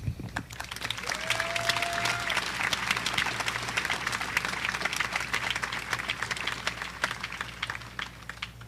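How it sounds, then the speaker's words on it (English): A high school memorial event audience applauds the Manhattan Dolls, a steady wash of many hands clapping at moderate distance, continuous for several seconds over a low hum. "let's give a big round of applause for the Manhattan Dolls"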